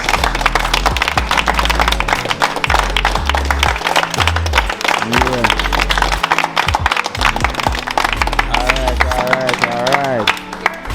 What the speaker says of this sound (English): So I'm going to give Moses a round of applause, please